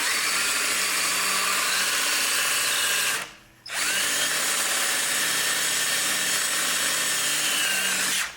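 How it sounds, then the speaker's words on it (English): A power drill bores deeper into a metal axle seal on a 1961 David Bradley tractor, a loud steady whine that cuts out for a moment and then resumes, with no talking. "Now this one I didn't drill deep enough. Let me drill it."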